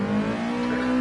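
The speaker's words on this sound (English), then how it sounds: "I'm getting wheel spin in first gear" A race car in a driving game spins its wheels in first gear, the engine holding a steady high, buzzing drone with a strained, even tone throughout.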